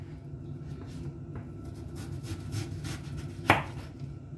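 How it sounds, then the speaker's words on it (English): A knife chopping through firm yam on a cutting board, soft repeated cuts with one sharper knock near the end, close by. "I'm going to cut them to my preferred sizes for the frying."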